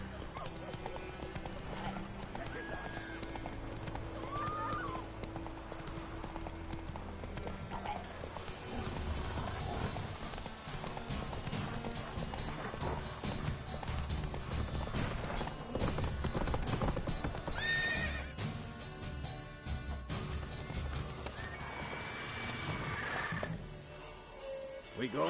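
In The Witcher 3, the horse Roach trots with clear clip-clop hoofbeats and neighs amid game music and ambient sound, while voices talk intermittently.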